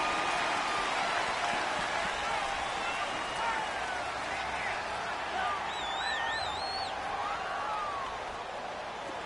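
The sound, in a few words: stadium crowd noise in a football video game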